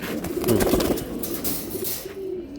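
Low cooing of Giribaz pigeons close by, soft repeated coos over a busy background hum, no one speaking.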